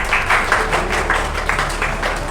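An audience at a spoken English class claps for Himanshu in a loud, close burst of applause that pulses in quick, regular waves over a low steady hum.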